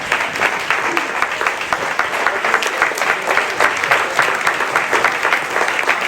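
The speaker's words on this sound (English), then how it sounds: "Let's stand up and give everybody a round of applause." An audience at a spring legislative forum gives a standing round of applause, loud, dense and sustained clapping that carries on evenly throughout with a faint crowd murmur beneath.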